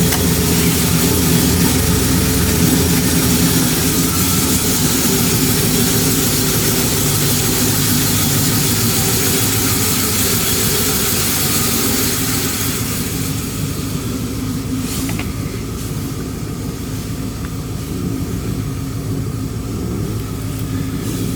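A 1973 Chevy Impala engine idles steadily after starting, a low, continuous rumble that holds even and loud throughout with no talking.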